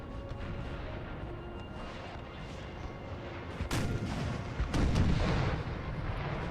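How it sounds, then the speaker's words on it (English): Artillery fire of 6-pounder and 8-pounder cannons in the Napoleon: Total War battle game, with a continuous rumbling barrage and several louder booming shots near the end, alone. "We got artillery here, 6-pounders."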